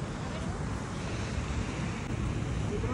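The Río Pita flows near a waterfall, a dense steady rushing roar close by with constant wind-like noise throughout.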